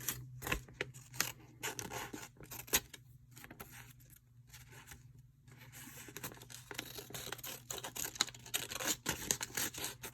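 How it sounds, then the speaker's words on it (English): Craft snips cut through paper, a series of short, close crisp snipping and rustling bursts in irregular rhythm, quiet and alone. "I use my snips for it because my snips are great for this."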